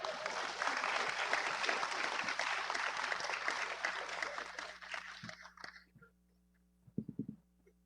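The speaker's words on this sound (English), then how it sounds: "We'll give her a round of applause." Audience applause at a national Toshaos Council conference in Guyana, a dense sustained clapping crowd that fades out after about five seconds, leaving a few faint scattered sounds.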